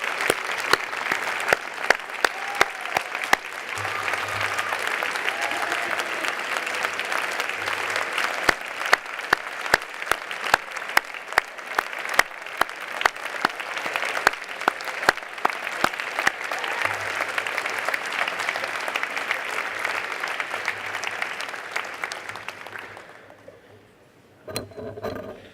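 Sustained applause from a large audience at a graduate convocation ceremony, steady clapping that fills the room for over twenty seconds, then tapers off into near silence with a few last claps.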